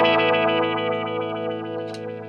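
A Triungulo Lab Harafna LFO low-pass filter pedal set to a high cutoff gives a bright, sustained, harmonically rich tone that pulses rhythmically, loud and steady for a couple of seconds.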